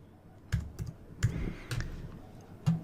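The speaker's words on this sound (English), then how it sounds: "you could type in live trades or live trading" Several separate keystrokes on a computer keyboard, close and clear, irregular clicks spaced across a few seconds in a quiet room.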